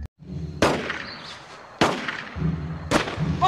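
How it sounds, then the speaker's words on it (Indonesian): Three sharp gunshots ring out at spaced intervals, each a loud crack followed by a lingering echo. "Tiba-tiba saja mereka mendengar suara tembakan."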